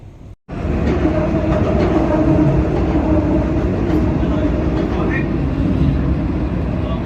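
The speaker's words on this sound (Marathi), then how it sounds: "आज आम्ही दुबई मेट्रोमध्ये आहे." A Dubai Metro train running, with a steady loud rolling rumble and hum after a brief silent gap, continuing without a break while faint voices talk inside the carriage.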